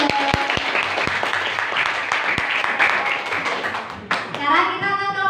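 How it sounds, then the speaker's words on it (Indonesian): Classroom applause for a student group after their presentation, a few sharp individual claps building into steady clapping from the class, followed by a teacher speaking at the end. "Beri tepuk tangan untuk kelompok 2."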